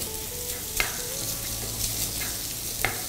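Minced beef sizzles in a pan for a bolognese sauce, a steady close frying hiss with a few brief spatula scrapes and taps, no talking.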